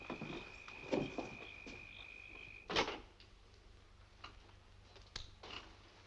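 Crickets chirp steadily at night in a faint, high, continuous trill, with a few soft clicks and knocks scattered through the quiet background.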